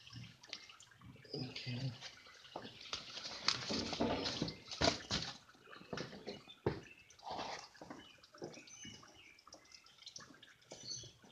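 Engine oil drains from a 2012 Toyota Tundra with the 4.6 L V8 during an oil change, a steady trickling, splashing flow close by with clanks and handling noises mixed in, and a voice speaking briefly.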